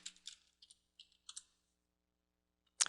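Clattery keystrokes on a computer keyboard in short bursts of taps typing an FTP command, then a pause of silence and a final sharp key press, close and quiet.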